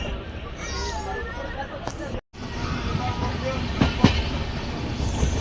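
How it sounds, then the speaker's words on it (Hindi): Sabarmati - Jaisalmer SF Express train running over the rails, a steady rolling rumble with a few sharp clanks and a brief dropout, heard from inside the coach with voices murmuring under it. "ये देखिए यहाँ पर हमारी ट्रेन ने कर्व लिया है।"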